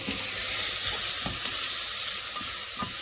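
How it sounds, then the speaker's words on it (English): Vegetables sauté in a pan over high heat, a loud, constant close-up sizzle with occasional stirring knocks; no talking. "on a high heat, sauteing this lightly"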